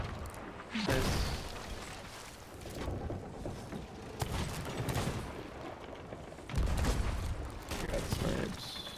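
Ship cannons firing in Sea of Thieves, heavy booms at intervals over sea and wind ambience, with players talking between shots.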